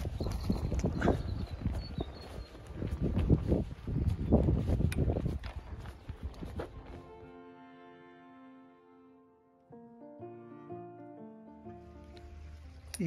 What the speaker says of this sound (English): Horses in this field